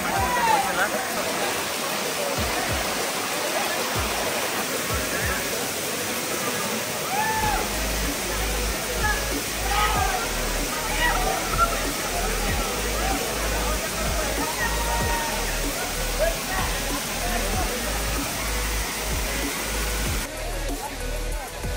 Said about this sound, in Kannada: ನೀರಿನ ಸೌಂಡಿಗೆ ವಾಯ್ಸ್ ಅಷ್ಟು ಬರೋದ ಗೊತ್ತಿಲ್ಲ